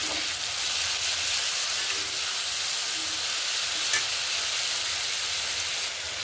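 Ground chili powder and sugar sauté with spices in a hot pan for an okra curry, giving a steady, close, even sizzling hiss with faint stirring throughout.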